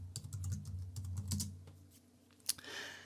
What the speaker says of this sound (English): So let's type geography.